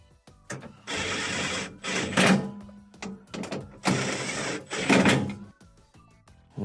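Threaded parts on a refrigerator are tightened during reassembly, with two long bursts of close ratcheting, grinding mechanical noise separated by short quiet gaps and small clicks.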